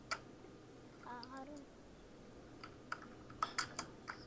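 A handful of light keyboard key clicks near the end of a short stretch, spaced irregularly and fairly quiet, with a brief murmured voice earlier and low room hiss underneath.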